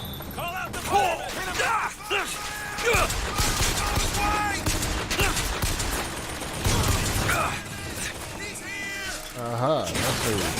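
Constant gunfire in a chaotic firefight in the video game Bioshock Infinite, with dense rapid shots, impacts and crashing debris layered over game music and voices throughout, loud and unbroken.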